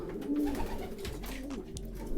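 Racing pigeons coo softly and repeatedly in a loft after a long-distance marathon race, low throaty calls overlapping against a steady background hum.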